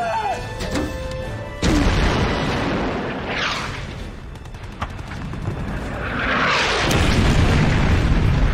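Naval guns on a warship fire in a war film, with loud booming blasts and shell explosions rolling over a constant roar of battle noise, a sharp sweeping whistle and a surge of blasts near the end.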